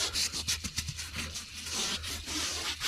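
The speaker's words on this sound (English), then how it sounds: "We're just going to kind of get all the cleaners work down into the surface with this brush." A brush scrubs cleaner into car upholstery inside a Traverse, giving a close, steady rubbing scratch with quick back-and-forth strokes and no talk.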